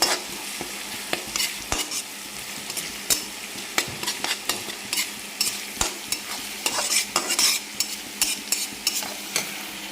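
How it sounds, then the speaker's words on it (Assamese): Onions with spices and garlic fry in a pan while a utensil stirs them, bringing a continuous sizzle punctuated by regular scraping strokes, close and steady with no voices. "কেঁচা গন্ধ যোৱালৈ অলপ ভাজিম"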